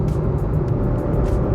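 A 2021 Maruti Suzuki Swift's engine hums steadily from inside the car while driving, a continuous loud low drone with road noise and no voices.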